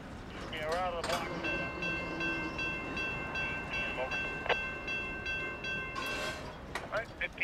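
The eastbound Amtrak Cardinal passenger train passes on the main line while its horn sounds in sustained tones, with wheel and rail noise underneath and scattered radio chatter.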